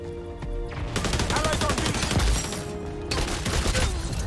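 Rapid automatic fire from an M4 rifle in the XDefiant video game, a fast even string of close, loud shots with brief pauses between bursts.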